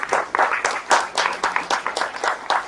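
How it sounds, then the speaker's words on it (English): Applause for a presenter at the 2015 World Hemp Congress in Slovenia: a modest audience claps in a fairly rhythmic, close pattern of distinct hand claps, steady across the whole stretch. "some applause"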